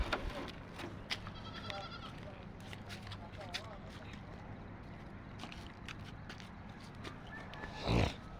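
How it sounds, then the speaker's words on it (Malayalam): A lamb bleats a few times on a farm, thin and somewhat distant, under steady background noise and people talking nearby. "പിന്നെ നിങ്ങൾ ഇതിൽ ഒരു ആട്ടുംകുട്ടിയുടെ സൗണ്ട് കേൾക്കുന്നുണ്ട്"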